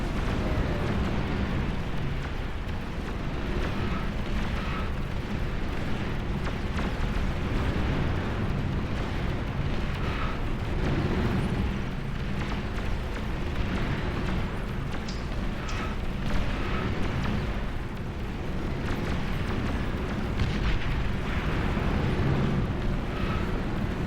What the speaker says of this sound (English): big explosion down there.